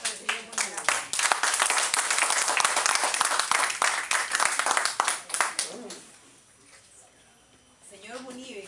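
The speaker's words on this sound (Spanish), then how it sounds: "Aplausos para el señor Munibe." An audience applauds for Mr. Munibe at a chocolatada gathering: a burst of dense, fairly close clapping that holds for several seconds, then drops away as a voice talks.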